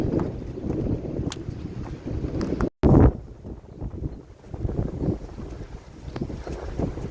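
Strong wind buffeting outdoors on a trekking route, a loud continuous roar with gusty microphone rumble throughout, briefly cut out for a moment near the middle, no voices.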